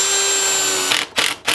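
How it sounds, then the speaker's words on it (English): A power drill bores a pilot hole into a wooden window frame for a tiny house: a steady whine first, then three short bursts as the trigger is pulsed, close and loud. "Now I'm going to pre-drill a hole."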